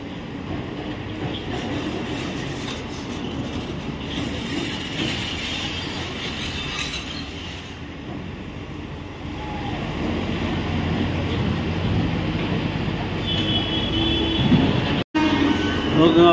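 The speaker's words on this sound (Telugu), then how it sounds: "ఒక పక్క ట్రైన్ పోతోంది, వర్క్ అయితే జరుగుతోంది." A train passes along track where underpass construction and earth filling are under way, a continuous rolling rumble with faint wheel squeal that builds louder toward the end, mixed with general worksite noise.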